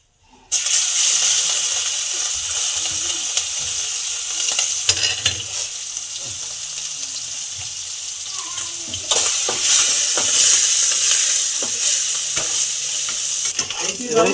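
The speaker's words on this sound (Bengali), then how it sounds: "এবার এই তেলের মধ্যে আমি চিংড়ি মাছগুলো ভেজে নেব।" Shrimp deep-frying in hot oil for a Bengali potol-chingri (pointed gourd and prawn) dish, with a steady close sizzle throughout and some stirring and clatter in the pan.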